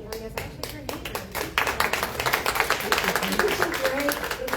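An audience applauds panelists and moderators at a faith organizations' affordable housing event, scattered claps building into sustained, dense clapping that fills the room, with a voice faintly present underneath.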